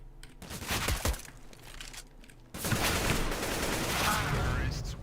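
AK-47 gunfire in a video game crackles in dense bursts, clipped short bursts at first, then a sustained loud rattling fusillade after a brief lull, close and harsh with no words spoken.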